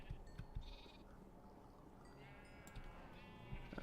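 Sheep bleating in a farming video game, several short wavering bleats scattered over a few seconds, quiet and slightly distant over faint game ambience and a few soft thumps.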